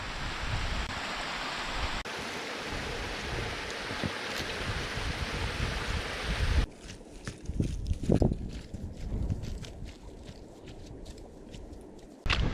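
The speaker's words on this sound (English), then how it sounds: "Nice wee waterfall again, cascading down the hillside." Small waterfall cascading down a Scottish hillside near Buidhe Bheinn, Kinloch Hourn, gives a steady broadband rush. Partway through it drops quieter and more distant, with wind and scattered footsteps.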